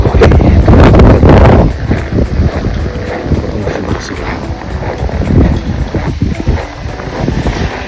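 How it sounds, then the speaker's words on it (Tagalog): Strong gusting wind with sleet and snow on a winter street, blasting hard against the microphone at first, then settling into a rough, steady rush. "Mahangin, may yelo"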